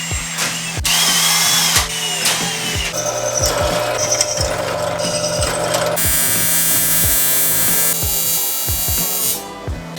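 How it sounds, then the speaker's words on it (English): A power drill bores holes in metal for a custom oil cooler setup, its motor whining loudly in repeated bursts with rattling, clicking contact on the workpiece, up close and with no talking. "drill some holes"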